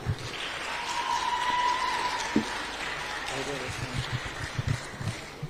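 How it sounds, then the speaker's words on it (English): Conference audience applause at an ICT event in Dar es Salaam, a diffuse clapping wash heard under and around a speaker's voice, with a few sharper thumps and taps. "A round of applause to Tukupala."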